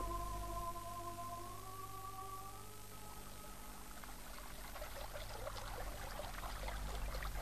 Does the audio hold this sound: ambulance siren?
no